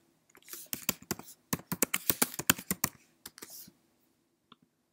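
Computer keyboard typing at close range: bursts of quick, crisp key clicks in an uneven rhythm, with short pauses between runs and a final stray keystroke after a silence.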